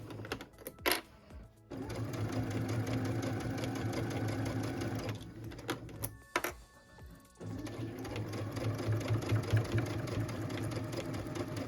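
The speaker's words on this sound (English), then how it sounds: "I'm just going to stitch on that line and pull the clips as I go" A sewing machine stitching through a pieced, quilted stocking runs in a loud, steady whirring mechanical hum, pausing briefly near the start and again midway before starting up again, with no talking.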